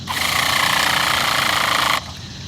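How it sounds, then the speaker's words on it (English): Electric starter spinning over a small RC nitro car engine fitted with a tuned pipe, a steady loud mechanical whir for about two seconds that then cuts off, leaving a quieter hum. "using the optional electric starter we installed in a separate video, I'm going to insert it."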